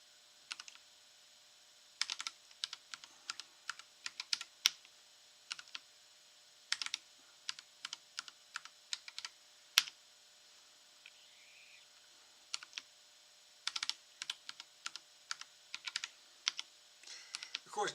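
Someone types a password on a computer keyboard during an operating system install, with sharp, close key clicks in uneven bursts separated by short quiet pauses.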